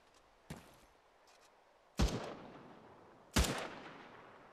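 Gunfire in the military game Arma 3: a fainter single shot, then two loud, heavy reports about a second and a half apart, each ringing out with a long echo over quiet background.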